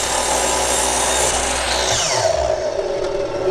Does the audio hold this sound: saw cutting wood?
yes